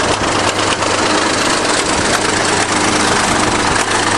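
A huge 1953 bulldozer converted from gas to diesel idles with a hole in its exhaust, a loud, steady close-up rumble with an even throb and no pauses.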